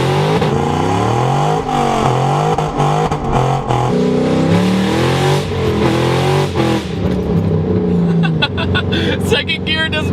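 A 2005-2009 Mustang GT with the 3-valve 4.6 V8 revs loudly and accelerates hard, its pitch rising and dropping through gear changes, with someone talking and exclaiming over the engine from inside the car.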